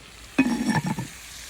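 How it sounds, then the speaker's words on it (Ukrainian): Onion fries in a clay pot on a clay oven for pea soup, a short close burst of sizzling and stirring that fades after about a second. "Ну що, цибульку обсмажили."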